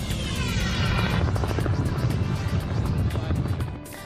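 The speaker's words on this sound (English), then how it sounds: "Santa's high-flying entrance landing by helicopter at Devonshire Mall." Helicopter landing for Santa's arrival at Devonshire Mall, a loud, steady rotor roar and thump filling the whole clip, with a chopping beat throughout that eases slightly near the end.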